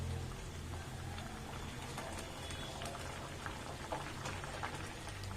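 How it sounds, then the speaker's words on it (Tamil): Chana masala gravy simmers in a pot, a soft continuous bubbling and popping heard close up, quiet and steady with no voices. "இப்போ குழம்பு வந்து நல்லா கொதி வந்துச்சுட்டு பாருங்க"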